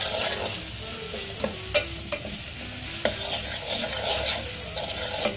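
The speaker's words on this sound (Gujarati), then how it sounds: "આ રીતના ચમચો લઈને આ રીતના ફેરવતી કરવાનું છે" A spoon scrapes and stirs pieces of leftover roti in a sizzling pan, with repeated clinks and scrapes over a constant frying hiss.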